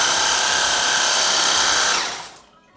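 A HOTO cordless pressure cleaner runs in jet mode, giving a loud, steady high-pitched whine and hiss of spraying water for about two seconds before it winds down and stops.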